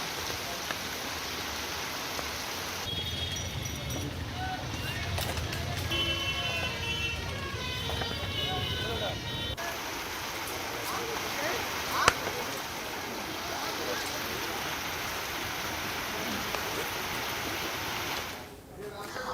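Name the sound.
heavy rain near Araria bus stand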